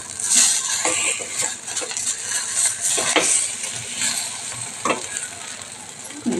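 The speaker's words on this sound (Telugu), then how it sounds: "ఈ విధంగా తిప్పేసుకోవాలి" Food being stirred in a pan over a low flame: a steady close sizzle with intermittent scraping strokes of the spoon against the pan, fairly loud and with no speech.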